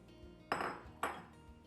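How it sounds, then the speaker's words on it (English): A spoon clanks against a metal pot while beef stew with broth, carrots, celery, onion and potatoes is stirred: two sharp metallic knocks with a scraping tail, close up and alone. "Give everything a good stir."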